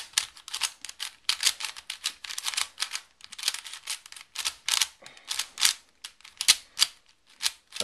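An MF8 Legend puzzle cube, dry and unlubricated, being turned by hand, producing quick bursts of close, crisp plastic clicking and clacking in irregular rapid runs.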